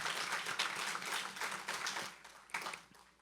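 An audience at a city's State of the City address applauds its public safety officers, steady clapping filling the room for a few seconds before tapering off at a moderate distance.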